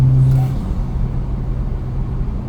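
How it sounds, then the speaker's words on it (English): A turbocharged BMW 335 N54 engine rumbles loudly and close, with a low droning hum that eases slightly after a brief higher turbo whine at the start. "I don't think I could ever get sick of those turbo noises."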